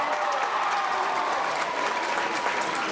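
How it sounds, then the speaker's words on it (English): A school assembly crowd applauds its state champion high school basketball team, a dense steady wash of many hands clapping at full volume throughout, with no pauses. "Let's clap it up."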